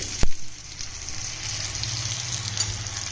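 Taro root shallow-frying in a pan for a yam tamarind curry, a steady close sizzle with a sharp scrape or knock near the start.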